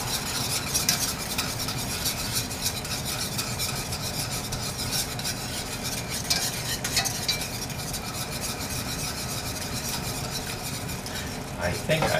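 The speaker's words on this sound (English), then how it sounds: "I'm going to relight the potatoes and corn that I have cooking." Potatoes and corn cooking in a pan, a steady close sizzle with scraping and stirring throughout, and a voice talking over it at times.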